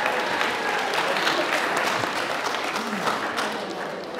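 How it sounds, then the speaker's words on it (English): Wedding guests clap and applaud steadily in a room, a dense and sustained burst of applause lasting throughout. "But you can clap if you want to, you know,"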